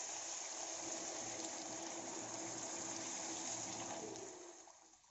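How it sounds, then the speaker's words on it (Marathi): Water poured into roasted masala in a pan for Satara-style matki misal rassa, a steady soft gushing and bubbling pour that holds evenly, then tapers off and fades at the end. "यामध्ये आता आपण थोडं पाणी टाकणार आहोत।"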